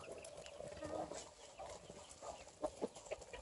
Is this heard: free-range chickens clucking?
yes